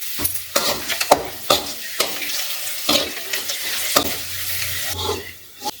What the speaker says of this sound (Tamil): இந்த மாதிரி வறுத்து எடுத்துக்கலாம்